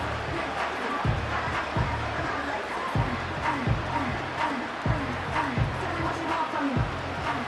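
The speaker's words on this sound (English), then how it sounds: "this crowd is making an impact right now" Stadium crowd noise from the Madden NFL 25 football video game: a steady, loud roar of fans with rhythmic, evenly spaced thumping stomps throughout.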